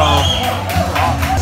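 A crowd watching a restaurant eating challenge whoops and cheers, a dense burst of shouting voices close by, loud and sustained through the short moment.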